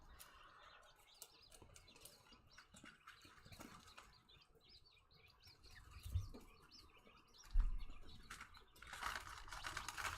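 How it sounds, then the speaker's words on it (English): Adult chickens squabbling with each other: faint background chirps, squawks and scuffling noises scattered over ten quiet seconds, with a couple of slightly louder bursts near the end and no talking. "it's two of the adults fighting in the background."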